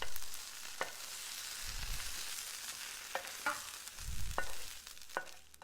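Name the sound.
mixing cooked potatoes into egg mixture for Spanish omelette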